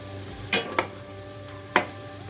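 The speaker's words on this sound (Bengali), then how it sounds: "আবার জিনিসটাকে একটু নেড়ে দেবো।" Methi chicken frying in a pan gets a brief stir: three sharp scrapes or clinks of a spoon over a low, faint sizzle.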